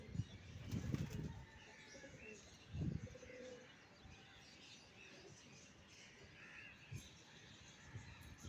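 Pigeons coo and flutter in a noisy spot, with a few louder bursts like wingbeats and low calls scattered through the recording.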